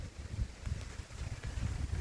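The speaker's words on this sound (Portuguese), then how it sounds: "O vento já tá vindo, hein?" Gusting wind sweeping across open countryside near a reservoir ahead of an approaching rainstorm, a steady low rumbling buffet with rising and falling surges, close to the microphone and with no voices.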